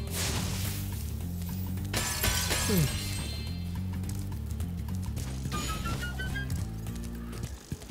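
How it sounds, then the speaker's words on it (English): In Spyro 2: Ripto's Rage, gems are collected in a hockey-themed level, giving bright, quick chiming pickups that stand out over busy game music and ambient effects. "That was the sound of gems."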